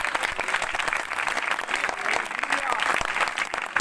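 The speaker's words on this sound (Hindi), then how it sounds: "आंखें बंद करके तालियां बजाएं।" A congregation at a church meeting in Chak 7, Faisalabad, claps with their eyes closed, producing a dense, steady wash of applause throughout, with a preacher's voice faintly mixed in.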